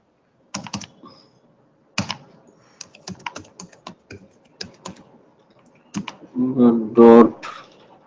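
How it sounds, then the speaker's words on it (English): Code being typed on a computer keyboard, bursts of close, crisp key clicks separated by pauses, with a short stretch of talking near the end. "Just type webdriver.chrome."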